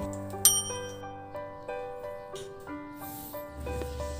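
A notification bell sound effect rings out as a series of bright, clear dings, each chime ringing on and overlapping the next, close and fairly loud, ending in a soft whoosh.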